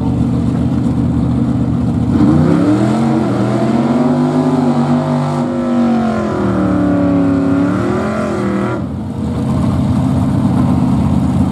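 Old-school 1931 and 1934 Ford hot rods roar down a drag strip, a loud, continuous engine drone with rising and falling revs as the cars accelerate past, alone without talk.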